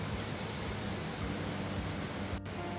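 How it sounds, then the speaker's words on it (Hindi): Heavy rain falls steadily outdoors as a dense, even hiss of drops, with no voices over it. "और अभी एक बार हो रही है जोरों से बारिश।"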